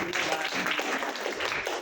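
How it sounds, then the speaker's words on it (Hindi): A church congregation claps hands to thank God during a Hindi sermon, a steady, dense patter of many hands filling the space for a couple of seconds. "ताली बजाकर परमेश्वर को धन्यवाद दीजिए"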